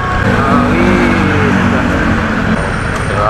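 Road traffic in a slow, crawling jam: a steady, loud engine hum and rumble from nearby vehicles fills the whole stretch, with no speech.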